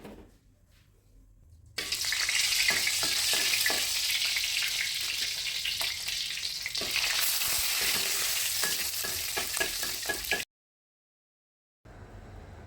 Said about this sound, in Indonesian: ini saya pengen goreng dulu ini ati ampela